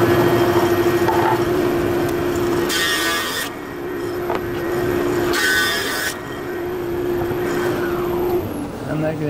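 A wood planer runs through a cutting board: a steady motor drone with two loud bursts of cutting noise as the board feeds through, alone with no talk.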